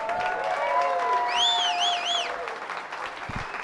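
Audience applause at a business talk about a fast-growing company, a steady crowd clapping with some cheering and a whistle-like tonal sound over it, fading slightly toward the end.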